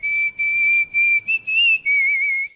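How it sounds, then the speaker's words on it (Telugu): A sustained, fairly loud whistle breaks into several held notes separated by short gaps, played alone with no talking, in a Telugu film scene. "ఏ విజిల్ అంత బాగుందా?"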